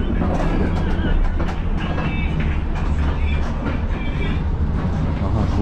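Inside a moving Algerian passenger train bound for Oran, a steady loud rumble of wheels and carriage noise with faint rattles and clicks throughout, with no clear talk over it.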